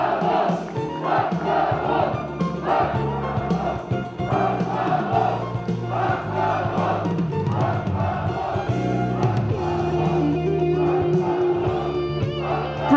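A large crowd at a Korean political party rally roars continuously with cheers, shouts and applause after a candidate's speech, loud and sustained throughout.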